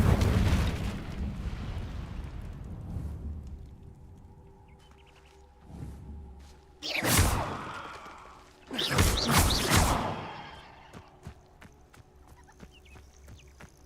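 An Incendio fire spell is cast in Hogwarts Legacy, bursting out in loud whooshing blasts, two strong bursts after a rushing opening, with quieter game ambience between them.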